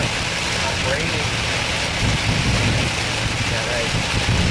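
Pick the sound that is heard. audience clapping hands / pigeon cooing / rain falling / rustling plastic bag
rain falling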